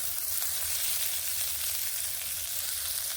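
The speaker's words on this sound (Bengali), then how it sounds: "বিনসগুলো ঠিক এইরকমভাবেই ভেজে নিলাম" Green beans frying in a pan, a steady, even hiss of hot oil heard close up for a few seconds, with no voices.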